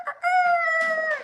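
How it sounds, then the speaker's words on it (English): A rooster crows once at close range outdoors, a clear, loud call that rises and holds for about a second before trailing off, with no talking over it. "Was that the rooster?"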